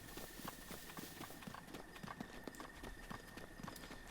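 Rapid, steady clip-clop of a galloping horse in The Legend of Zelda: Breath of the Wild, quiet and continuous, with a faint hum in the background.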